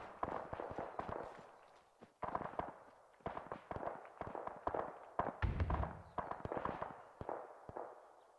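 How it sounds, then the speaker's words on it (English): Rapid bursts of gunshots ring out in a WW2 video game battle at Bloody Gulch, sharp cracks in irregular clusters, some close and loud, others quicker and trailing off, continuing across the whole stretch. "Shots."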